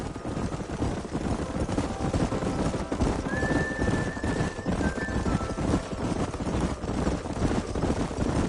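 Horses in the Red Dead Redemption video game, a close run of clip-clop hooves with a whinny rising over them midway, under a steady broad rumble of game ambience.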